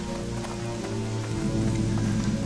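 Steady rain falls in a broken-down, earthquake-torn area of World of Warcraft Cataclysm, a constant dense patter of drops on surfaces that stays even and unbroken throughout with no voices.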